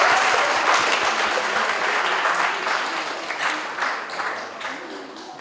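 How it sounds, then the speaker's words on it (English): Dense, steady applause from an audience at a professional seminar rewarding a prize winner, many hands clapping together and slowly tapering off over several seconds. "Give a round of applause"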